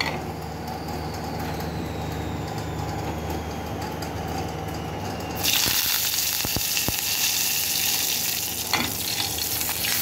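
Curry leaves dropped into hot oil with cumin and chillies for a tempering, a steady frying hiss that bursts into a louder, brighter crackling sizzle midway, close up with no talk.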